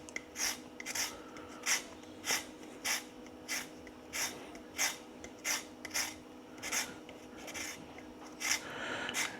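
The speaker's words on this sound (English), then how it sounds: "So I'm just gonna keep on zesting." A handheld zester rasps across citrus peel in steady, evenly spaced strokes, about fourteen scraping passes, close and alone against a faint background hum.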